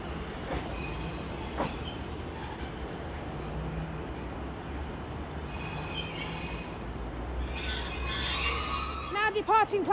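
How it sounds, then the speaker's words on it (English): A Northern train pulls out of Sheffield station, its wheels giving a sharp, sustained high squeal that comes and goes over a low rumble, rising into louder screeching and clatter near the end, with faint station voices underneath. "Now departing platform 4A is the 1335 Northern train service to Huddersfield."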